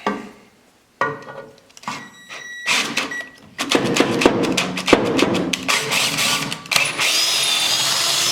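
A power drill bores mounting holes for a Warn winch, bursts of whirring that stop and restart, growing longer and louder with thumps as the bit bites into metal.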